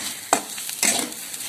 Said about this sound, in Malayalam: എന്നിട്ട് നമുക്ക് നല്ലതുപോലെ തന്നെ ഇളക്കിയെടുക്കാം.